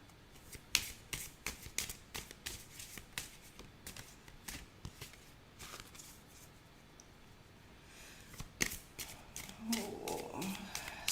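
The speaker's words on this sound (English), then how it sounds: "Let's get a card out." Tarot cards being shuffled and drawn, with rapid riffling flicks and snappy card slaps in quick bursts close up, easing into softer handling with a faint voice toward the end.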